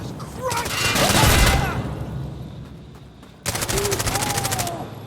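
In the video game Insurgency Sandstorm, two long bursts of rapid gunfire rattle loudly, split by a short lull, with a faint voice underneath.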